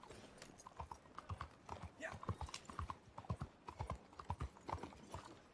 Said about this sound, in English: Drunkenly riding your drunken horse to take down a dude with bad beliefs